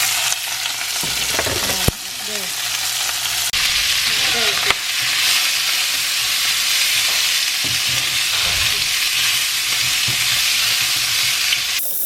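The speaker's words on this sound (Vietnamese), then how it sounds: "Sau khi hành đã ra vàng rồi thì chúng ta sẽ đổ thịt vô nhá." Meat tipped into hot oil with golden fried onions, a loud, continuous close sizzle with sharp clatters and pan scrapes, plus a faint voice speaking underneath.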